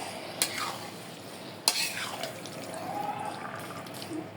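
A pan of sweet raw mango jelly pickle being stirred, two sharp spoon clacks against the pan over a faint low simmer, quiet and close.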